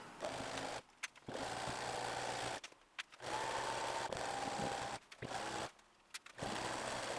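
A sewing machine stitches thrift-store jeans with black thread in several steady bursts of running, each separated by brief pauses, close and fairly loud.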